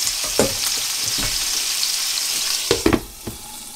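Frikadellen meatballs frying in a pan, a steady bright sizzle with soft scraping and stirring sounds, a few louder spatters and clinks near the end.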